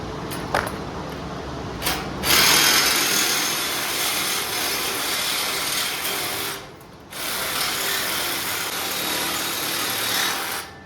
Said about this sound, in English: Let's break out the Sawzall.